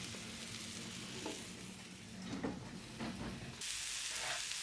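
Vegetables sizzle steadily in a hot pan, with the scrape of stirring, and the hiss swells louder toward the end.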